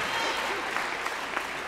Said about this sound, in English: give the Reverend a round of applause